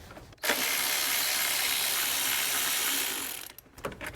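A ratchet wrench turns a 10 mm bolt on a car's bracket, giving a loud, steady, continuous ratcheting whir for about three seconds, close to the mic, followed by a few short clicks.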